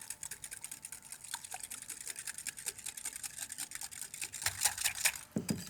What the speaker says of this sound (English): And now with a nice strong whisk, bring this together.